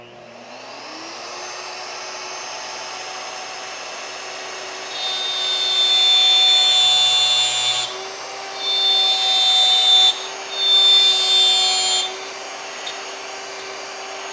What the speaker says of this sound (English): they're going to get the benefit of being able to see exactly what the router bit is doing